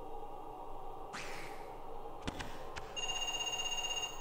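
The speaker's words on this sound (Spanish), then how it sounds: "Vale, me llaman por teléfono." A telephone in the Parasite Eve II video game rings with a steady, electronic trilling tone after a few soft game sounds and clicks, fairly quiet and with no talk over it.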